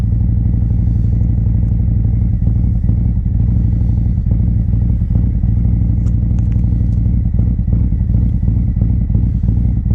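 A 2019 Harley-Davidson Street Glide CVO motorcycle engine idling after a cold start, a loud, steady, close-up lumpy throb with a rapid pulsing rhythm and light mechanical clatter, no voices.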